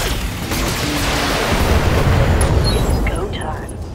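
Heavy explosion in the BattleTech video game, a loud rumbling boom with a sustained low roar and crackling debris that fades at the end.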